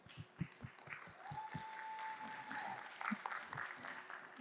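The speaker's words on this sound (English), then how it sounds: "let's close out with a big round of applause for everyone here" Crowd applause at the close of the Gateway event in Dubai, a steady wash of many hands clapping with a few louder individual claps standing out, at moderate volume from across the hall.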